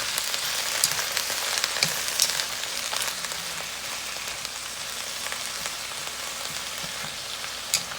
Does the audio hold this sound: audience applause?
no